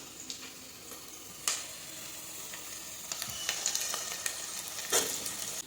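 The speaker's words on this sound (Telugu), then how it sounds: "ఉల్లిగడ్డ అయితే కొద్దిసేపు వేగనిద్దాము" Chopped onions fry with curry leaves in a pan for a home-style chicken curry, a steady close sizzle with a few sharp crackles and scraping stirs over the hiss.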